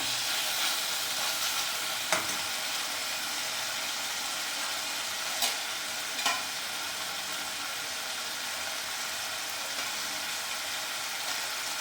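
Chicken liver fries in a pan with a steady hiss that runs throughout, broken by a few faint clinks of stirring.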